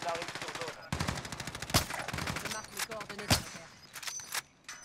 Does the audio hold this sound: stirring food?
no